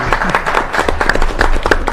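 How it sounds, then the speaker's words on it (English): Applause from a school board meeting audience, a dense round of clapping that runs steadily throughout at close range. "You can tell by the round of applause"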